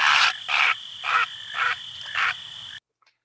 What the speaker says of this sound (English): this heron was terrified and it flew off, squawking and croaking in panic and alarm like so.